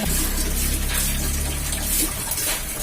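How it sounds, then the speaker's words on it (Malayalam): Water poured onto oyster mushroom beds on a mushroom farm, a steady close rushing splash like a hose or can running continuously, easing off slightly near the end with no talk. "ഇങ്ങനെയാണ് നമ്മൾ നനച്ചു കൊടുക്കുന്നത്"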